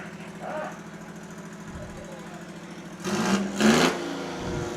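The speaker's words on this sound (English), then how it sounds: "Oh, that's a nice tractor." An Oliver Super 99 tractor engine rumbles at a town parade, a low steady idle under crowd chatter and people talking nearby.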